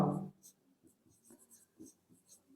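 Marker or chalk scratching out short strokes on a board during a maths lesson on percentages, faint and intermittent, beginning with a brief burst of voice.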